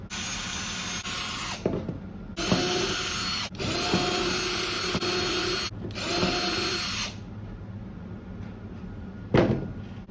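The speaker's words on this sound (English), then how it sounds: "This is a 1/16 drill bit, and it's usually very good for drilling these." Bursts of a small power drill with a 1/16-inch bit drilling holes in a fingerboard mold, several runs of a few seconds each with short pauses between, close by, ending with a brief final buzz.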